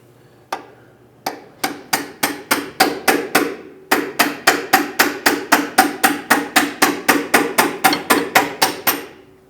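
Brass punch hammered against a stuck horizontal bolt on a 2000-2006 Toyota Tundra power steering rack, roughly thirty close, loud metallic blows in a fast steady rhythm, broken by one brief pause.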